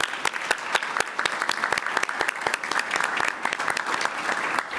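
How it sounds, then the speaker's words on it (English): Sustained applause from a conference audience at an FDA-AACR real-world evidence workshop, dense steady clapping throughout, fairly loud and close with no talk over it. "Can we have a round of applause for them?"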